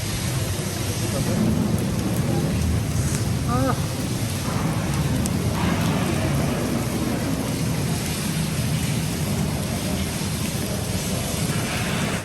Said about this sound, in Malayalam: ഇടി വെട്ടുന്നുണ്ട്